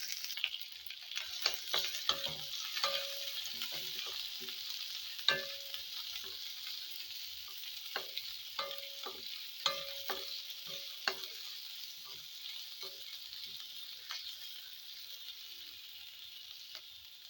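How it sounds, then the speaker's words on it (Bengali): Onion and green chili frying in hot oil in a wok with panch phoron, a steady sizzling hiss broken by frequent scraping stirs of a spatula, close and fairly quiet. "একটা কড়াই বসিয়ে দিয়েছি আর কড়াইতে দিয়ে দিয়েছি তেল"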